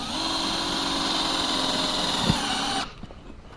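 A cordless power drill drives small self-tapping 1/4 inch hex head screws while building a high tunnel, a steady close whine running nearly three seconds with a brief knock partway through, then cutting off into quiet.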